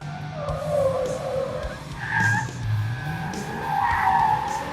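Car tires skid and squeal during a chase in the 2007 Transformers film, with long screeching sweeps over a steady engine and road rumble and no talk over them.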